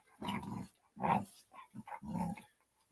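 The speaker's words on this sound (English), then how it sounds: "My dog's in a mood to play." A pet dog growls playfully in three rumbling bursts, close and fairly loud, with short pauses between them and no talking.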